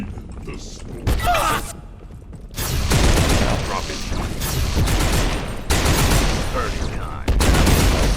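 Enemy gunfire in the video game Abiotic Factor crackles in bursts of rapid shots, mixed with other combat effects and a player talking over the action.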